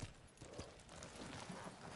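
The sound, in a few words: horse hooves in a video game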